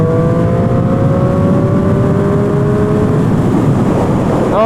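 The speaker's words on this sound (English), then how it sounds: "this thing desperately needs an exhaust. I can hear it growling underneath me" A motorcycle engine with no exhaust fitted growls steadily and loudly up close throughout, its rising engine tone carrying over rushing road noise while the bike is ridden.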